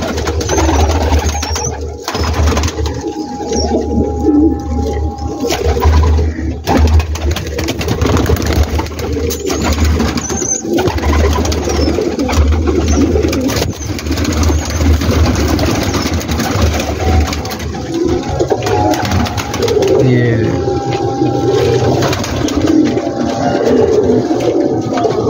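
A large flock of pigeons coos on a rooftop in Gujranwala, layered soft cooing going on throughout over a steady low background hum.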